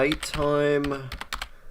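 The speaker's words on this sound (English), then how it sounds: "Here, I'm typing it out so you can look it up." Keys clack on a computer keyboard in a quick burst of close clicks, following a single spoken word.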